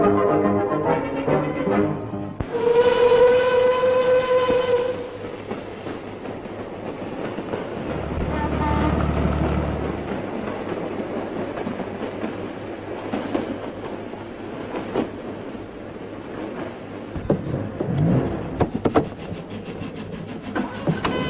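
Trains rumble past with a steady, loud roar and rolling clatter that carries on for about twenty seconds, with a brief tonal horn or whistle early on and no voices over it.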